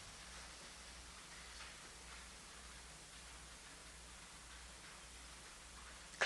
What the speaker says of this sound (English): hearing the rain at the same time